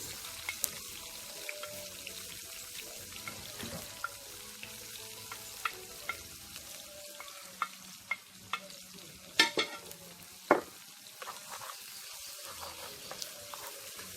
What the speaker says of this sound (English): I'm going to saute out the season. for a minute or two.